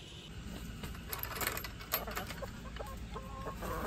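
Hens cluck faintly inside a coop on a small farm that also keeps ducks and quail, soft and scattered under a steady wash of background noise.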